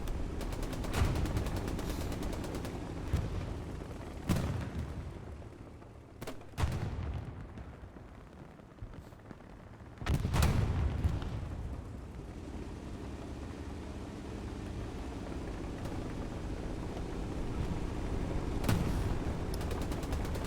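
Tank battle gunfire in the World War II shooter Hell Let Loose on the Stalingrad map, with repeated heavy cannon booms and bursts of distant gunfire under a steady rumbling battlefield din.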